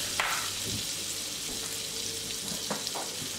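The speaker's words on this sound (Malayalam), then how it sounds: "അതിലേക്ക് 1 ടേബിൾ സ്പൂൺ ബട്ടർ ചേർത്ത് കൊടുക്കുക." Butter sizzling in a pan over low heat while an egg mandi is cooked, a steady soft crackling hiss with a few brief stirring clatters, no voices.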